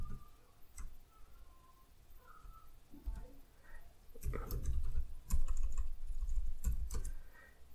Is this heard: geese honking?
no